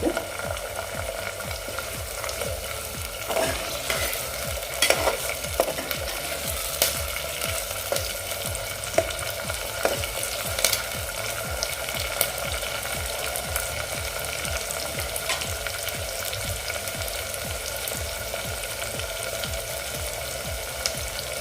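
Tomatoes fry in a pan over a medium gas flame, a steady close sizzle with occasional faint clinks and stirring scrapes, no voices.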